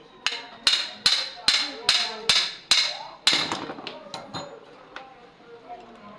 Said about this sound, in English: Apply a little chisel here.